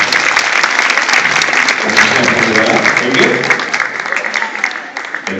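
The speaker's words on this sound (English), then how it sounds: "Everybody give a big round of applause for coming and having us out." Audience applause fills a hypnosis stage show, a dense sustained wash of clapping from a crowd that tapers slightly near the end, with a voice talking over it.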